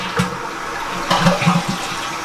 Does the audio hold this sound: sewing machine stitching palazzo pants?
no